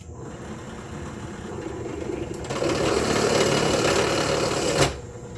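A small, cheap electric drill whirs steadily, rising in pitch and loudness midway, then briefly peaks before winding down; no talking.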